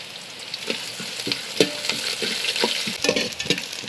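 Pieces of coconut fry in hot coconut oil, crackling and sizzling loudly and close, with sharp popping bursts and stirring scrapes throughout.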